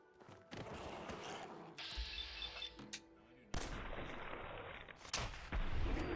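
Gunshots fired at a mole rat in Fallout 4 on Xbox Series X: sharp, loud blasts with mechanical reload clicks between them and quiet gaps in between.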